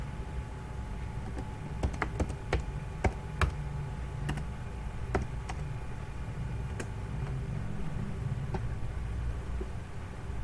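Quiet keystrokes on a computer keyboard, typed while installing a WordPress plugin: scattered sharp clicks in short bursts, a few quick taps clustered then pausing, over a faint steady room hum with no talking.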